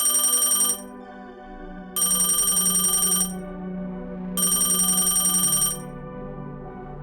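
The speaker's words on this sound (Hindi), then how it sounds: "दूसरे दिन ठीक रात के 12 बजे फिर से रोटरी फोन की घंटी बजती है" An old rotary telephone bell rings at midnight in three long, loud bursts with short silent gaps between them, heard clearly on its own with no voices.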